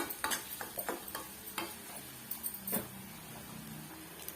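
Ingredients dry-roasting in a pan for sweet pongal, faint scattered scrapes and clicks of a spoon stirring against the pan over a low hiss, close and quiet.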